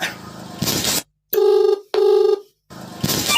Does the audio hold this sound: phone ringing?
yes